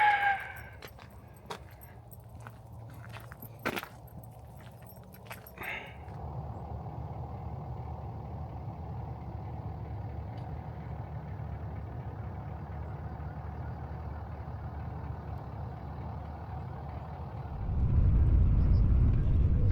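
A truck drives through a state park picnic area, its engine a steady low rumble from inside the cab that swells louder near the end, after a few early clicks and rattles.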